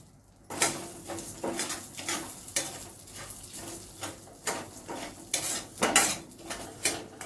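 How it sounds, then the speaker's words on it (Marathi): Rice roasting in ghee in a pan while a spoon stirs it: repeated scraping and clinking strokes in an uneven rhythm over a soft sizzle, close and clear with no talking. "त्या तुपात आपण तांदूळ भाजून घेऊया"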